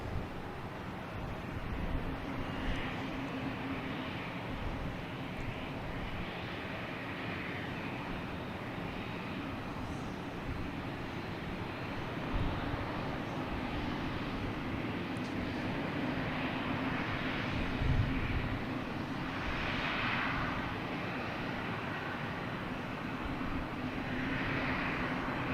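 A Delta Airbus A321neo arriving from San Francisco lands at Boston Logan, its jet engines a steady distant roar swelling slightly, with wind rumbling on the microphone throughout.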